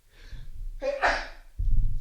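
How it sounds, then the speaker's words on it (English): A single sneeze bursts out sharply after a short intake of breath, close to the microphone, followed by a brief breathy exhale. "I'm about to sneeze, sorry."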